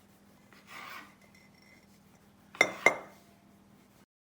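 A knife cuts through a jam-filled Swiss roll sponge for a trifle base, giving a soft rub early on and then two sharp clinks of the blade against a plate in quick succession, close and otherwise quiet.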